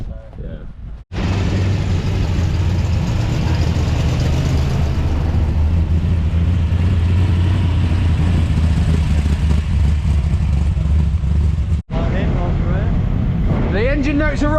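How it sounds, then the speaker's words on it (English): A Ford Focus ST race car at Silverstone revs with a loud, sustained engine roar that fills the scene, cutting out briefly just before the end. "The engine notes are rising."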